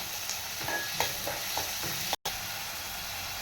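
Onions frying in a pan with salt are stirred, giving a steady close sizzle with several soft scraping strokes of a spoon and a brief dropout near the end.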